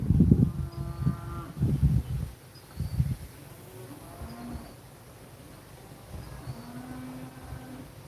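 Cattle give several low, drawn-out moos close by in the first few seconds, followed by quieter buzzing of flies and other insects over a faint outdoor background.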